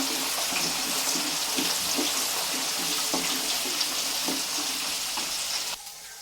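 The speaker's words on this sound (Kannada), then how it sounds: "ಇದನ್ನು ಕೆಂಪು ಬರೋವರೆಗೂ ರೋಸ್ಟ್ ಮಾಡ್ಕೋಬೇಕು ಎಣ್ಣೆಯಲ್ಲಿ" Urad dal and chana dal roast in hot oil with a steady, loud sizzle and crackle, stirred now and then, the frying stopping abruptly near the end.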